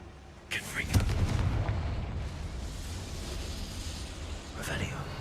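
Confringo spell blast in Hogwarts Legacy, a sudden fiery boom that rumbles and fades over several seconds, followed by a fainter whoosh near the end, with game ambience underneath.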